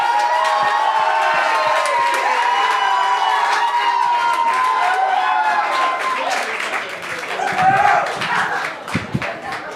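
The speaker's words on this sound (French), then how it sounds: "un tonnerre d'applaudissements pour Jean-Alexandre Nicolas Barrette!" A studio audience greets a comedian at a comedy gong show with sustained loud applause and cheering, a dense wash of clapping and shouts that swells near the end, with voices mixed in.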